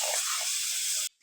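Prawns coated in salt and turmeric hiss and sizzle loudly in hot oil, a dense steady frying noise that cuts off abruptly near the end.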